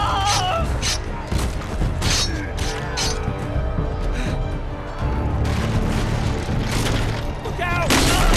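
Gunfire and explosive booms from a Game of Thrones video game battle scene crackle in bursts over shouting voices, dramatic music and clashing effects, loud and busy throughout.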